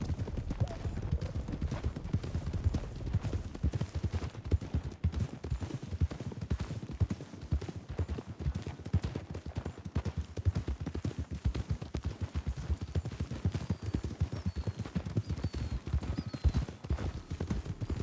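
Steady horse hooves clip-clop throughout, a continuous dense trotting rhythm heard alone with no talk, fairly close and even in loudness.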